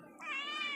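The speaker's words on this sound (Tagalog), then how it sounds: "Ayan ang pusa namin." A house cat gives one short, close meow with a rising, harmonic tone, heard alone against faint room noise.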